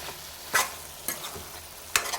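Tomato curry frying in a pan with chilli powder and salt, a soft continuous sizzle broken by three sharp scraping stirs of a spoon against the pan, fairly quiet and close.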